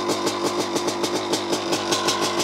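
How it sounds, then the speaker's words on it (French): A motorcycle engine with a knocking piston idles with a fast, steady knocking pulse, each beat sharp and evenly spaced, close up and fairly loud, with no voices. "T'entends le piston taper sur le moteur."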